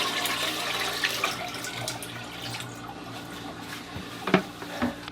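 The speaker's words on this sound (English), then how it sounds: "I'm just going to pour water into here." Water poured by hand into a toilet bowl during a rear outlet toilet installation, with the tank left unfilled, makes a steady close splashing wash with a few sharper splashes near the end.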